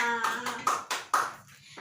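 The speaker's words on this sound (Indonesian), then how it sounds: "tepuk tangan untuk kita semua" Hands clap together in a classroom in a short burst of roughly four sharp claps, close and fairly loud, following a voice that trails off at the start.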